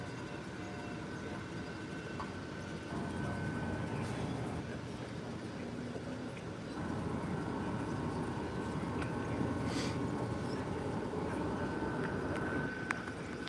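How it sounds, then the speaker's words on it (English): A small model train at a Christmas light display rumbles steadily around a track, a continuous mechanical whir with a faint whine, running for the whole stretch without talk. "Trains coming around right here."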